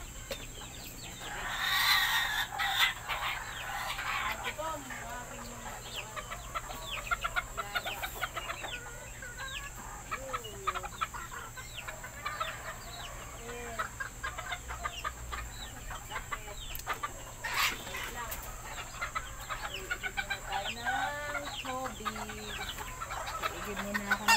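Pet chickens cluck and chatter at feeding time on a backyard farm, a busy flock of soft, overlapping clucks with occasional louder calls and a brief crow, fairly close, no talking.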